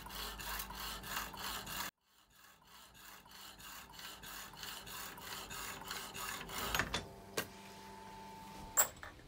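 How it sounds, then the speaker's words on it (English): A restored hand saw cuts through a metal bar with rhythmic rasping strokes, pauses briefly, then resumes in a steady back-and-forth, with a few sharp clanks near the end. "So first thing I need to do is chop it down using the saw"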